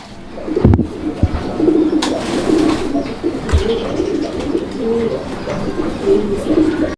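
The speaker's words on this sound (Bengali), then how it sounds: "এগুলা কাকজি কবুতর হোয়াইট কাকজি আপনারা দেখতে পাচ্ছেন ইন্ডিয়ান কাকজি" White Indian kakji pigeons coo in soft repeated low phrases, fairly close, over a busy pigeon market background with a few sharp knocks and no talk.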